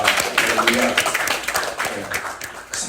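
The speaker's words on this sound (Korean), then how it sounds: "하나님께 영광의 박수 드리겠습니다." Church congregation applauding together during a sermon, a dense, steady wash of clapping from many hands filling the hall at moderate loudness, with a few voices mixed in.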